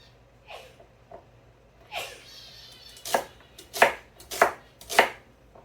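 A knife roughly chops vegetables on a board, with a few scattered light cuts first and then four louder, sharper chops spaced about a beat apart.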